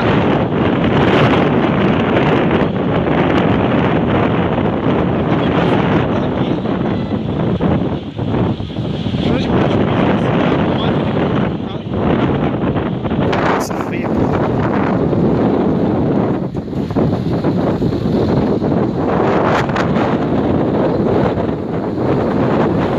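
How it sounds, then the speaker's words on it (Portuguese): Violent windstorm gusts on a street in Arcoverde, Pernambuco, Brazil, with winds reported near 180 km/h: a loud, continuous roar of wind buffeting the microphone, swelling and easing, with a voice faintly underneath. "Forte ventania aqui em Arco Verde."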